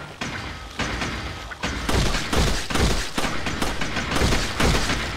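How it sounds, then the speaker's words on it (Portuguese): Rapid series of gunshots in the video game Resident Evil 4, sharp bursts and heavy thuds following one another closely, loud and continuous throughout. "Errei 2 tiros."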